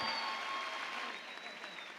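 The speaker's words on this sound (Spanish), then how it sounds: "Fuerte ese aplauso, gracias." Audience applause at a gathering of education activists, a short burst of dense clapping with faint crowd murmur, heard from a distance.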